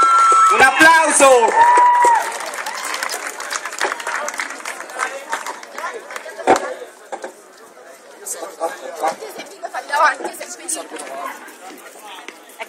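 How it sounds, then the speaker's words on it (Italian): Crowd at a cosplay award ceremony claps and cheers as a Final Fantasy X group takes the stage, a sharp whistle up front, then applause tapering into chatter. "Un applauso."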